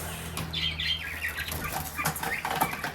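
Chicken flapping its wings while being caught, a burst of rapid wing beats and scuffling that comes and goes over about three seconds, with faint chirps in the background and no talk.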